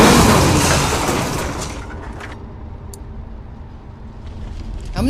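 In a video game, a car crashes and flips over: a loud burst of impact noise that decays into a fading rumble, with a few faint clatters and a final swell of noise.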